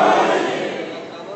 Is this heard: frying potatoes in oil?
no